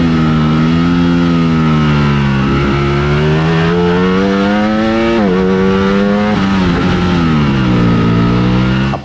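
A 2023 Ducati Panigale V4S engine revving loud and close, a steady high-pitched roar with rising and falling pitch and a few sharp throttle changes, no talking.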